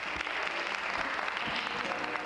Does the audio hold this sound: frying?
no